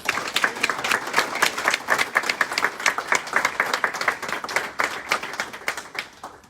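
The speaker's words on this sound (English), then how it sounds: "can we give your family and friends a round of applause for all the love and support that they've given you guys?" A crowd at a Savannah Police Department swearing-in ceremony for new officers applauds families and friends, producing sustained, dense clapping that holds steady for several seconds and tapers near the end.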